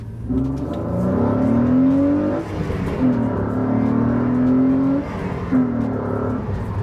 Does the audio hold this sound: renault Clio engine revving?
yes